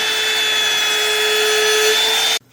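A wood router shaping cabinet doors whines loudly and steadily with a high tonal pitch, cutting off abruptly near the end.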